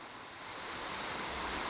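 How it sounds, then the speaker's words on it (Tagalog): Heavy rain from Typhoon Kristine pours down as a steady, even hiss of dense noise, faint and continuous, with no separate drips standing out. "dahil ang walang tigil ang ulan, wala rin tigil ang tulo rin dito"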